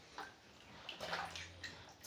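Sliced potatoes for chips are washed by hand in water, giving soft, quiet splashes and sloshes in a few brief bursts against a low background.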